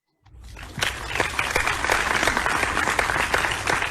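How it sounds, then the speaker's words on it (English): Audience applause at a research summit and conference fills the hall, rising quickly from silence into steady, dense clapping that holds strong throughout. "let us give him a round of applause"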